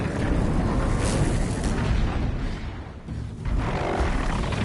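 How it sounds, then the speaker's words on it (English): Weapon fire in the Horizon Zero Dawn video game comes as heavy, booming blasts and a rumbling roar that fill the whole stretch, with a brief dip before the noise swells again. "I'm shooting."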